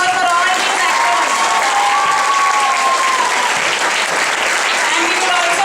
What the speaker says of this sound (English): So please give a big round of applause for all these actors.